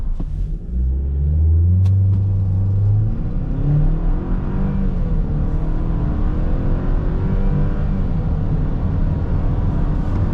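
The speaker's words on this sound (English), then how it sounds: "When full boost kicked in first gear, I was actually surprised at how hard this pulled." A 2024 Chevrolet Silverado regular cab with the 2.7 TurboMax engine accelerates hard from a stop, a loud, close engine rumble rising in pitch through a gear, then a sustained heavy drone and road roar.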